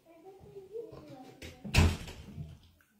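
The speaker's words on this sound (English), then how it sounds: "Close the door." A door is pushed shut indoors with one sharp, loud thud in the middle, surrounded by faint room noise and low voices.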